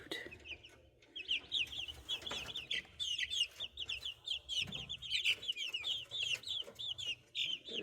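A flock of backyard chickens clucks steadily nearby, with busy overlapping chatter and short calls continuing throughout.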